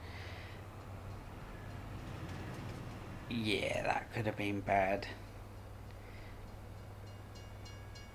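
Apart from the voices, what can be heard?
train passing in Farming Simulator 22 video game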